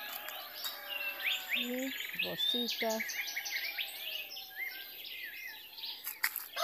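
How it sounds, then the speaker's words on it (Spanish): Wild birds chirp and sing in a Mexican garden among roses and lilies, many overlapping high calls and trills throughout, with a brief voice speaking in Spanish partway through. "que amanecieron muy felices cantando los pájaros."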